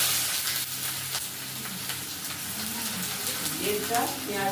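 Chopped onion frying in hot mustard oil for a bottle gourd and potato dish, a steady broadband sizzle that runs throughout at close range, with a few soft stirring clinks and faint background voices.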